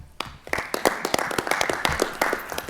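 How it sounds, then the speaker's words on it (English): An audience at a town hall meeting applauds, a dense close round of clapping lasting a few seconds with sharp individual claps standing out. "Please give them a round of applause as well."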